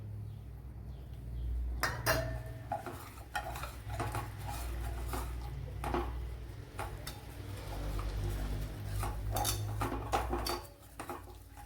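Brinjal fry batter seasoned with salt being mixed in a bowl, with repeated soft scraping and clinking of a utensil against the bowl at close range, steady and unhurried.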